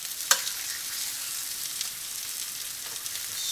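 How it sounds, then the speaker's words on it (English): A steady, soft crackling sizzle of chicken breasts frying in hot oil, continuous throughout with a single sharp pop near the start. "That's what you want to hear. If you don't hear it sizzle, take it back out"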